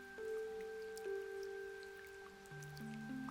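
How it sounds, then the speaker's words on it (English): Rain ambience in Raintown from the video game Omori: faint, scattered drips and soft patter sit under steady sustained game music tones. "It is pretty rainy here, but what do you expect out of a place called Raintown?"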